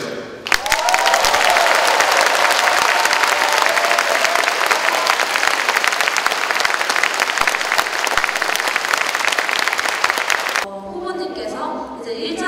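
An audience at a university lecture by a presidential candidate breaks into loud, sustained applause with some cheering. The clapping stays dense and even for about ten seconds, then stops abruptly and speech follows.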